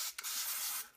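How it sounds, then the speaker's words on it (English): Canola oil cooking spray hissing from an aerosol can onto pepperoni buns: a close, soft, breathy spritz lasting almost a second, briefly broken once, with no talking. "So I just use the cooking spray."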